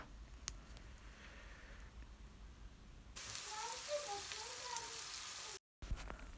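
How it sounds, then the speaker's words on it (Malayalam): Chilli and coriander spice powders fry in hot oil in a pan for a soybean curry. It starts quiet, then a loud, steady sizzling hiss takes over partway through, with a brief cut near the end. "നന്നായിട്ടൊന്ന് ഇളക്കി കൊടുക്കുക പൊടിയൊക്കെ ഒന്ന് പച്ചമണമൊക്കെ മാറി നല്ലതുപോലെ ഒന്ന് മൂത്തതിന് ശേഷം"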